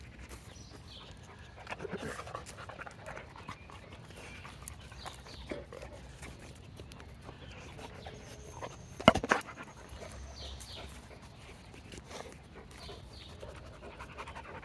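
A big dog panting outdoors early in the morning, soft rapid breaths close by, quiet and steady, with a few faint thumps and one sharper knock partway through.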